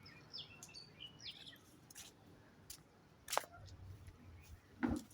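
Birds chirp at the Newtown mini zoo in short, faint, scattered tweets against a quiet outdoor background, mixed with a few sharp clicks.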